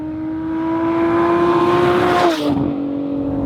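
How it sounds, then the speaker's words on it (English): 2017 Lotus Evora 400, a mid-engine sports car, accelerating in sport mode on a track straight, the engine note rising steadily and loudly before a sharp gear change drops the pitch. "Let's try sport. About 110 on the back straight."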